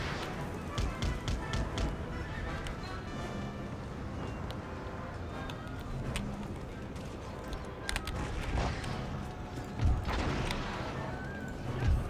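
A cavalry charge in Empire: Total War crashes into enemy artillery during a siege, heard as a dense, continuous battle din with scattered sharp cracks and thuds. Voices may murmur faintly underneath.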